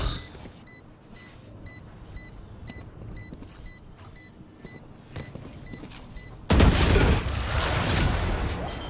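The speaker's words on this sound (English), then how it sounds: "Flashbang." In a first-person shooter video game, a regular electronic ticking runs under faint background noise before a flashbang bursts loudly. A harsh, sustained roar of gunfire and blast noise follows.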